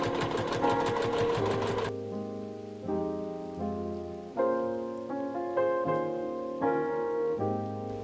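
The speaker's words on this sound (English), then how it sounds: "I'm going to be stitching just a few back stitches right down the center." A sewing machine stitches a few back stitches down the center of a quilted cathedral-windows potholder, starting with a fast, dense run and then breaking into short, starting-and-stopping bursts of whirring motor hum, close and clear with no speech.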